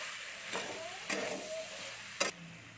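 Cauliflower stirred in a pan with roasted ground fennel, three short scraping strokes of a spatula over a faint, steady sizzle.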